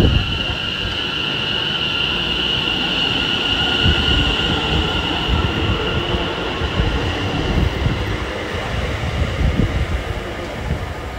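Greater Anglia electric train 720531 pulls out of Cheshunt station toward Hertford East, a steady close rumble of wheels and traction with a sustained high whine, continuous and loud throughout without speech.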